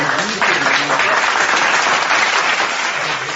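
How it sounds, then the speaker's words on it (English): Loud, steady applause from a crowd, continuous clapping filling the whole stretch with no break. "Applause."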